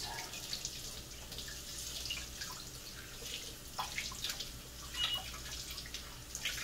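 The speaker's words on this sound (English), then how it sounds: "we're gonna give them a little rinse in the sink." Tap water running into a kitchen sink while fish are rinsed under it, a steady soft hiss of flow with small splashes and drips rising now and then, fairly quiet and close, with no voices.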